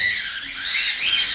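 Birds squawking loudly and harshly while being handled and struggling at harvest, a close, shrill, continuous burst of distressed calls.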